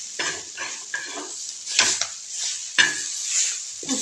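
Fenugreek leaves being stir-fried in a pan for a Maharashtrian methi bhaji, with a steady sizzle broken by scraping and clinking bursts of the spatula against the pan roughly every second.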